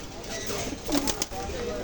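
Pigeons in a pigeon shop in Khulna, where Pakistani Teddy and high-flyer pigeons are sold, give a soft coo near the middle over steady background noise.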